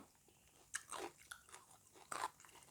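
Shumai dumplings eaten with fresh raw vegetables, close-up chewing with several crisp crunching bites and soft mouth sounds, no talking.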